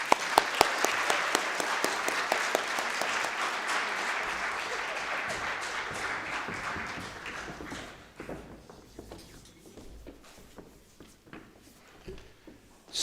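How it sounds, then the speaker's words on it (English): Applause for the whole group at a national security conference working lunch, dense steady clapping from a sizeable audience that thins out into scattered claps and taps after about eight seconds. "Let's give some applause to the whole group."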